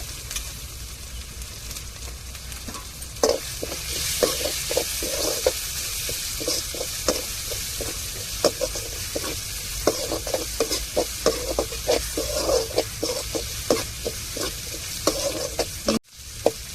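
Ginger and garlic sauté in hot oil in a pan, a steady bright sizzle broken by repeated scraping stirs of a spatula, close and continuous with no talk.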